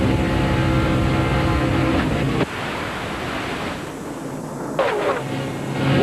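Heard from onboard, a NASCAR truck's engine roars loudly, then cuts off abruptly into a noisy rushing tumble as the truck comes apart, with another harsh burst of impact noise later.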